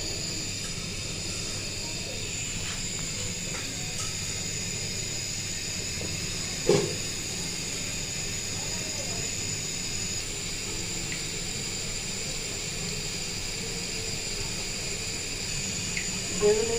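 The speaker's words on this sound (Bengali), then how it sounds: "বেগুনিটা এভাবে ভেজে নেবেন।" Eggplant fritters (beguni) frying in hot oil, a steady close hiss and fine crackle throughout, with a brief clatter midway.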